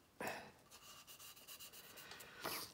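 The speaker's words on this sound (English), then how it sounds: "I just let the sandpaper do the work." Sandpaper rubbing over a primed plastic model kit of the 1957 Revell XSL-01 Manned Space Ship, a faint close scratchy back-and-forth scrubbing in short regular strokes, with no talk.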